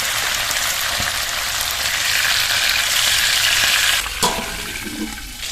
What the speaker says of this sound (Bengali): লো টু মিডিয়াম ফ্লেমে পাতাগুলো ভেজে নিয়েছি